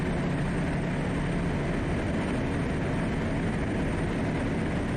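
Propeller aircraft engine in a flight simulator bush-flying game, flying over fields in rain, a steady broadband drone holding constant and loud throughout with no talk.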